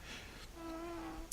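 A bee buzzing in the Minecraft Forestry mod, kept in a hot, arid, hellish climate: a faint, steady tonal hum that grows clearer midway and continues alone, with no talk.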